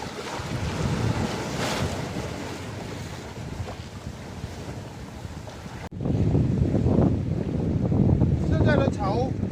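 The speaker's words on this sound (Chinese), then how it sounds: "今天的天气不是很好，大风大浪的" Strong seaside wind roars and buffets the microphone while big waves crash continuously along the shore at low tide, the surf growing louder near the end.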